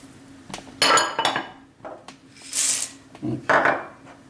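Ingredients for Swedish crispbread go into a bowl in several separate bursts of clinks and scrapes, with a bright rattle partway through, close and alone without talk.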